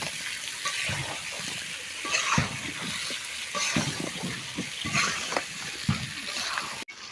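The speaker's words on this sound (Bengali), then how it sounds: "এই যে মশলা কষানো হয়ে গেছে, এখন আলু ঢেলে দেওয়া হলো" Potatoes hit hot spice paste in a pan for fish curry, giving a close, busy sizzle with wet bursts and scraping stirs that rise and fall in clumps throughout, ending with an abrupt cut.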